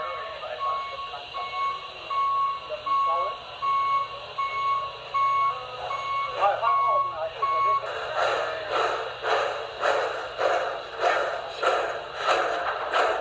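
A motorized store cart beeps loudly in a Home Depot aisle, a rapid repeating electronic beep that starts partway through and pulses steadily over a background tone and faint indoor chatter.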